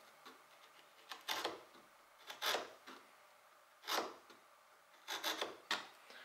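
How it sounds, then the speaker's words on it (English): Chisel paring wood held against a bench hook while cutting a cross halving joint for a trivet, quiet scraping strokes in irregular short bursts with pauses between, close and otherwise silent. "I'll set it up against the bench hook, and then I can just pare against that a little bit at a time."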